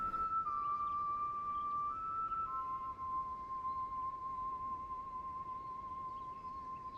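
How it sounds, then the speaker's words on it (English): A whistled melody echoes through a village in the Trails through Daybreak video game, steady clear tones stepping between a few pitches and holding long notes, heard alone over a soft background hum. "how loud is your whistling that it echoes through the village like this?"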